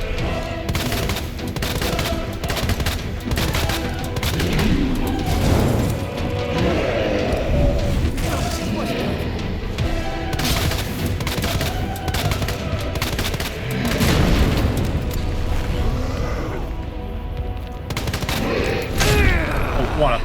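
Dense rapid gunfire fills a Resident Evil 2 Remake fight, sharp repeated shots and crashes overlapping continuously, with someone talking over the noise.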